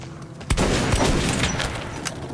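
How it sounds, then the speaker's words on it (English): Nail gun fire in the Metro 2033 video game, a sharp burst of weapon noise followed by sustained loud combat clatter and rumble over a short stretch. "I think that's a nail gun. Yeah, that's a nail gun."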